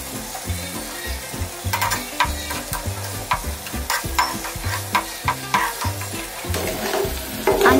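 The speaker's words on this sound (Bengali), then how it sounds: "ডিমটাকে একটু কিছুক্ষণ ভেজে নেব" An egg fries in a pan of oil while noodles are being cooked, giving a steady close sizzle with scraping and stirring clatter throughout, the crackle getting louder near the end.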